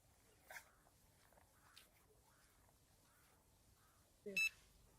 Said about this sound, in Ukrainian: Працював сигналізатор.